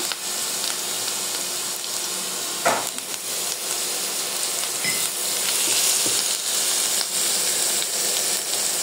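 Garlic and cumin paste frying in hot oil in a pan after a splash of water, a loud, steady sizzle with a sharp stirring clatter near the start and lighter scrapes later, no voices.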